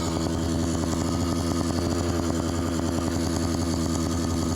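An LA Hover Bikes Phantom 85 two-stroke engine with a suspected exhaust leak idles steadily up close, a buzzy, rapid, raspy drone that stays even and loud throughout.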